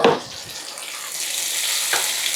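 Chopped onions with green and red peppers sweat in a pan, giving a steady, soft sizzle and hiss throughout after a brief clatter at the start.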